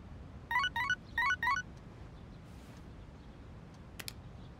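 Text message notification chime from the Persona 3 Reload video game: four quick bursts of bright, bell-like tones in two pairs, moderately loud over a faint background hum, followed by a brief soft blip.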